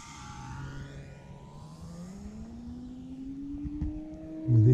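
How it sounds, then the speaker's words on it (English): Radio-controlled aerobatic airplane flying, a steady engine or motor drone rising gradually in pitch as it passes, moderately distant, with a louder burst near the end. "So relaxing to fly this airplane."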